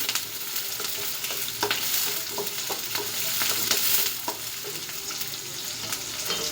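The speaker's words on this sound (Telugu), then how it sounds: "ఆనియన్స్ వేసిన తర్వాత ఇది కొంచెం ఎర్రగా అయ్యేటట్టు వేయించుకోవాలండి." Onions fry in a pan for an ivy gourd gravy curry, a continuous loud sizzle broken by occasional scrapes and taps as they are stirred, with no voices.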